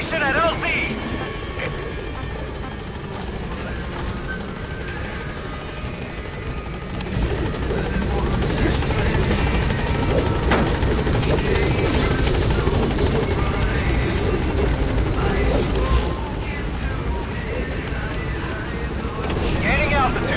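A helicopter in Metal Gear Solid V approaches a landing zone, its rotor thumping steadily and growing louder partway through, with radio-style voices talking over the noise.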